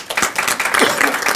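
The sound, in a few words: applause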